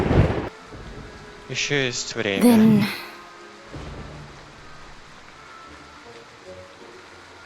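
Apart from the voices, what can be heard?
thunderstorm with rain in video game Identity V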